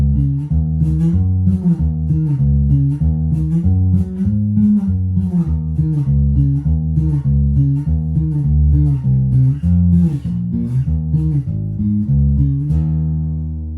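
A bass guitar plays a slow, walking jazz line, plucked low notes with steady rhythm, loud and close, with no talking.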